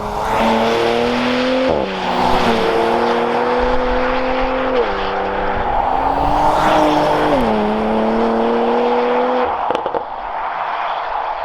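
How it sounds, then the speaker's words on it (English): A 2020 Porsche Macan GTS engine, the same unit used in the Audi RS4, revs hard through several gear changes, rising and dropping in pitch with loud exhaust roar and sharp pops between shifts. "the Turbo and the GTS share this engine with the Audi RS4. And let me tell you, this engine sounds absolutely amazing."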